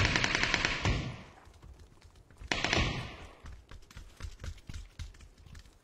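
Gunfire in a video game, with two loud bursts of shots followed by quieter scattered pops and footsteps-like clatter.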